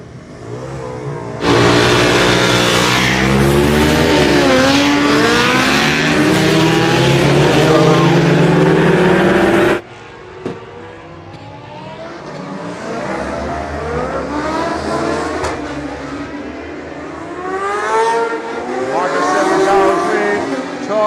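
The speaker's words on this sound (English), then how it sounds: "The machines are going out on their warm-up lap." Road racing motorcycles at the Cookstown 100 head out on their warm-up lap for an open invitation race, a loud sustained engine roar near at first, then a rising and falling multi-machine drone further off with an announcer talking over it.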